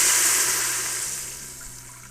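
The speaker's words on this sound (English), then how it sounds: "So what I got, 1 1/4 cup of chicken broth." Chicken broth, about a cup and a quarter, pours into an Instant Pot with a steady splashing rush of liquid that gradually tapers off.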